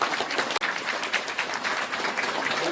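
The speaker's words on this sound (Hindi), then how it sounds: "ताली बजाओ।" Clapping rises from guests at a Christian Adivasi wedding ceremony, a steady dense patter of many hands held at an even level for a few seconds, with one sharp gap partway through.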